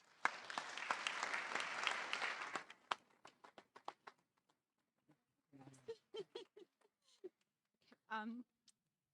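Audience applause welcoming a speaker at a university presidential inauguration ceremony, a dense burst of clapping that thins out into scattered individual claps before fading.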